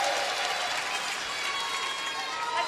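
Applause from a curling crowd at a world championship match, a steady dense wash of clapping and crowd noise filling the whole span at even loudness.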